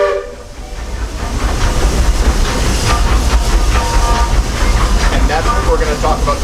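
Walt Disney World Railroad steam train rolling along its track at Magic Kingdom, a steady loud rumble and clatter throughout with a brief whistle-like tone, while someone talks over it.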